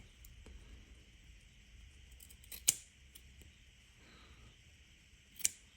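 Small scissors trimming cloth upholstery for a 1:18 scale Chevy Nomad model seat give two crisp, close snips spaced a few seconds apart over a faint, quiet room background.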